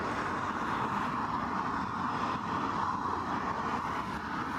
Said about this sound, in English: A220-100 inbound from Geneva.